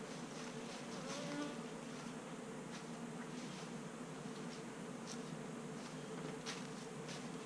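A steady, dense buzzing of many honeybees in a nucleus hive fills the scene, continuous and fairly close, with no talking.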